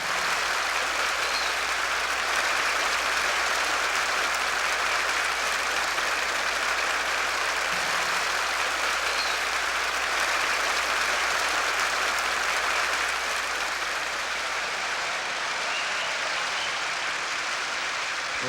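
A television studio audience applauds comedian Groucho Marx as he comes on, a loud, dense and steady wash of clapping that runs unbroken and unchanged for about eighteen seconds, with no voices over it.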